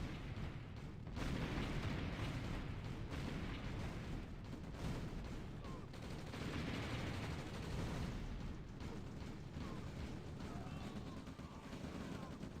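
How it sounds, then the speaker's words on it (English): Artillery fire in the OpenRA Red Alert strategy game, a dense, low rumble of repeated blasts and explosions, fairly faint under a commentator's talk. "Yunano just moving his harvester straight into artillery fire"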